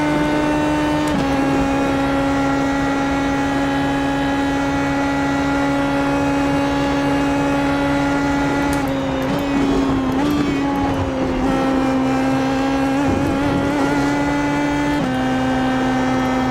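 Pm18 race car at Watkins Glen in a racing video game, a loud sustained engine drone holding a steady pitch, dipping and rising briefly at a couple of gear or throttle changes before settling again.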